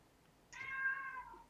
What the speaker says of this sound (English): Hey Google, meow.